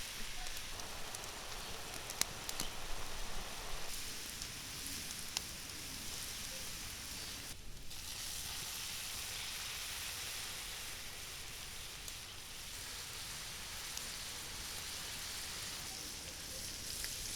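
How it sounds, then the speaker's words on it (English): Mushrooms searing in a pan with dry white wine, a steady crackling sizzle that runs alone and fairly loud the whole way through, with a brief dip in the middle. "We give them a good stir, and we sear the mushrooms until golden brown."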